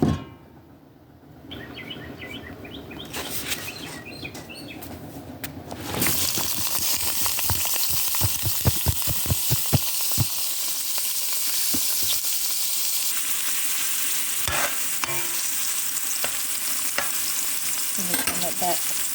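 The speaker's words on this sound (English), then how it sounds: "I'm getting ready to fry them up" Chopped ingredients hit hot olive oil in a pot and sizzle loudly and continuously, with spoon stirring and scraping clatter in the first seconds and occasional clinks over the steady frying hiss, close up.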